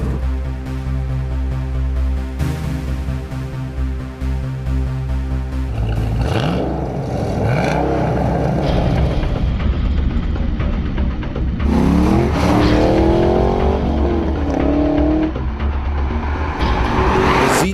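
A 2014 Chevrolet Camaro Z28 with a big V8 and six-speed manual races a 2014 Nissan GT-R Track Edition on a drag strip: loud steady engine drone, then hard revving and rising gear-change sweeps with tire squeal as the cars launch and pull away.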